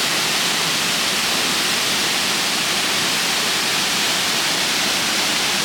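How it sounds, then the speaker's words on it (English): Waterfall pouring from the reservoir dam at Nunobiki in Kobe, Japan, a dense, steady roar of rushing water that stays loud and constant throughout. "This is another waterfall, and this apparently is caused from the reservoir, the dam."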